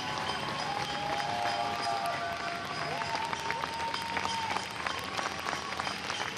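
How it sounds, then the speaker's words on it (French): Sustained applause from a large crowd, heard from some distance, with a tonal hum running underneath. "vous devez entendre derrière moi ces applaudissements."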